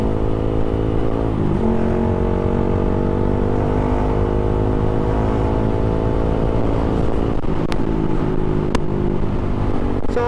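A Suzuki Gixxer 155 motorcycle with a loud aftermarket exhaust idles loud and close, its exhaust droning steadily, then blipping up in pitch once or twice near the end.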